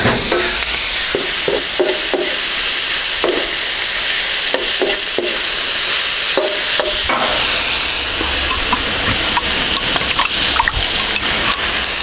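Ginger garlic paste and fresh chilli sizzle and fry loudly in a hot pan for a Birmingham restaurant-style chicken balti, with steady crackling and repeated stirring scrapes throughout.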